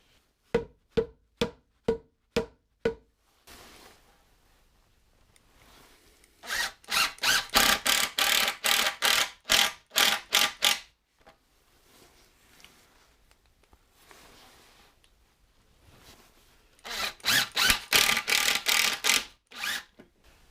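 Pocket hole screws driven into wood with a power drill while building a duck house: short ratcheting clicks open the clip, then several close bursts of drilling with pauses between them.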